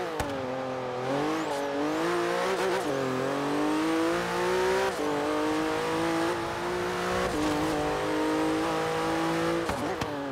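A Porsche Turbo S with a PDK gearbox in Forza Horizon 3 revs hard and accelerates, its engine note climbing steadily and dropping with quick gear shifts. The loud, continuous drone fills the clip with no talking.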